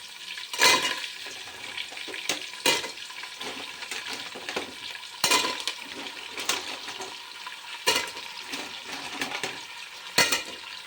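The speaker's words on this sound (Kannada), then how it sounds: "ಈರುಳ್ಳಿ ಸ್ವಲ್ಪ ಫ್ರೈ ಆದಮೇಲೆ ನೋಡಿ ಏಡಿ ಹಾಕ್ತಿದ್ದೀನಿ." Crab pieces dropped into onions frying in a pan, a steady close sizzle broken by sharp bursts of spattering each time more crab goes in, about five loud surges across the stretch with no voices.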